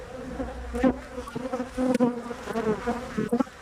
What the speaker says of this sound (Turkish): Evet şöyle arılarımızın da uçuşunu göstereyim. Çalışıyorlar.